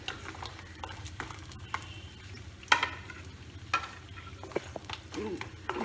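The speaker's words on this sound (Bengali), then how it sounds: "বড়িটা ভেজে নিই।" Bori lentil dumplings frying in a pan, heard as a soft, low sizzle with occasional stirring clicks and scrapes throughout.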